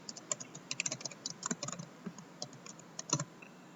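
Typing on a computer keyboard while working in PowerPoint: quick, crisp, close-up key clicks come in uneven bursts with short pauses, and no one speaks.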